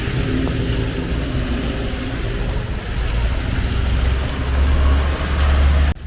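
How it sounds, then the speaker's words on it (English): Rain-soaked street in Cebu as a car passes on the wet road, a continuous broad hiss of tires and water that swells louder toward the end before cutting off, with no talk. "I don't want to get splashed by a car"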